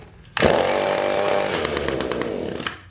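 An Echo HC 152 gas hedge trimmer fires up abruptly and runs, a loud, close two-stroke engine buzz that holds steady and then fades slightly as it settles.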